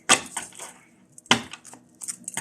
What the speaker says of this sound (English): I'm just shuffling the cards before I draw.